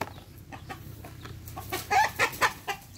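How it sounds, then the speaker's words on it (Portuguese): Roosters fight and chickens cluck close by in a farmyard. Short, repeated squawks and clucks rise to a louder flurry near the end, heard with no talk over them. "o galo tá brigando com o outro"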